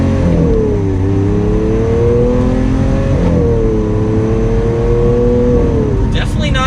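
A Lamborghini Aventador LP700-4 accelerates hard in Strada mode, its engine rising loudly through several revving pulls as the pitch climbs and drops between gears, close by, with a brief burst of talk near the end.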